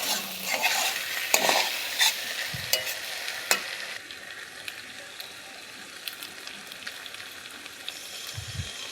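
Pointed gourd and prawns stir-fried in a pan, with a constant soft sizzle under repeated scraping and clinking of a utensil against the pan, louder at first, then a quieter sizzle with occasional knocks.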